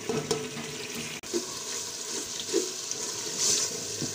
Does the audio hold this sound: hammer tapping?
no